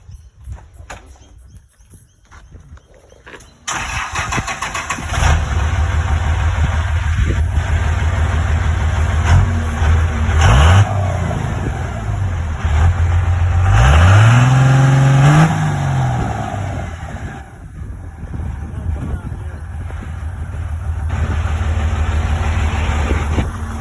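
A loud Cummins diesel engine in a 1999 Toyota Land Cruiser 105 series cranks and fires up, then runs with a steady heavy rumble, revving briefly a couple of times before settling back to idle.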